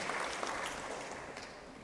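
A conference audience at a CSR fair awards announcement in Poland gives brief applause for a company, a soft, distant, continuous patter of clapping.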